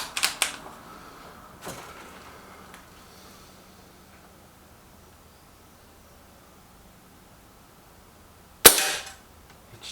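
Air rifle shots from a Lee Enfield Sentry: a sharp crack at the start, a fainter one near two seconds, then a loud snapping shot close to the end, separated by quiet.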